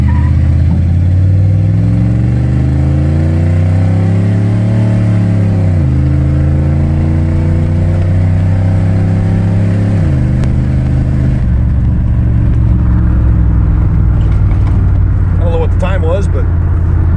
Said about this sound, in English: All right, just gonna punch it.